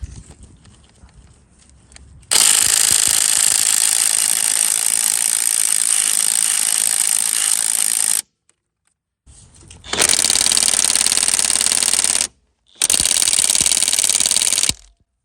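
An impact power tool with an 11/16 deep socket spins off the U-bolt nuts under the rear end of a 1974-78 Ford Mustang II, running in three loud, close, sustained bursts separated by short silences.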